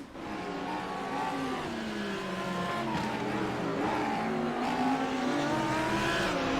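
A GT3 race car at Donington revs hard as it loses the rear under throttle, with a wavering high-pitched engine whine rising and falling steadily, close and loud throughout.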